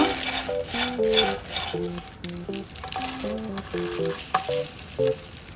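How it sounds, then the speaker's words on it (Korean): Steady crackling and rattling from shrimp being stirred in a hot, dry, unoiled pan, with light metallic clinks, no voices. "기름 안 두른 마른 팬에 검새우 한번 볶아줄 거예요"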